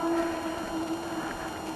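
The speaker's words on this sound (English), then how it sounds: "it's a train going back" A train rumbles steadily nearby in a quiet outdoor spot, with a sustained tonal hum riding over the continuous low rolling noise.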